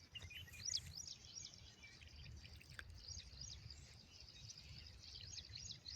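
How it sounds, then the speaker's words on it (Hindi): Birds chirp and sing faintly and at a distance over green grassland, with scattered high calls coming and going above a soft, steady background hiss and no talk. "पक्षियों की कितनी मधुर आवाज़ें आ रही है।"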